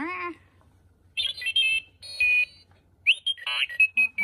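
A Star Wars R2-D2 alarm clock sounds in short bursts of high, warbling beeps and chirps, separated by brief gaps, after a short synthetic voice-like tone.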